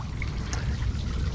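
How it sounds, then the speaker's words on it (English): A small garden fountain trickles into a backyard water pool, a soft steady wash of running water heard close and continuous, with no voices. "Little water pool right here with a little fountain in it"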